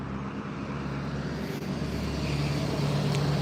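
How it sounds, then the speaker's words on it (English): Cars rolling past on an outdoor road, heard as a steady wash of traffic noise that grows gradually louder toward the end, with no voices. "Even just the cars rolling past, it's a beautiful feeling."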